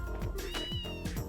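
A cat in the video game Trails in the Sky FC meows a few times, clear and close, over steady background game music.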